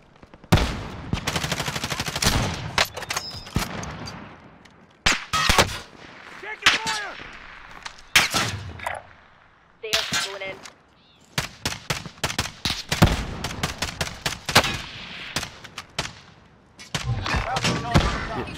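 Rapid bursts of automatic gunfire in Call of Duty: Modern Warfare, loud and close, arriving in repeated volleys separated by brief pauses, with game effects between bursts and some voices.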